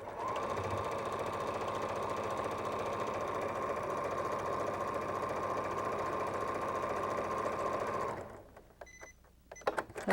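Sewing machine stitching quilt pieces, running in a steady close buzzing whir for about eight seconds, then stopping, leaving a few faint clicks and handling noises.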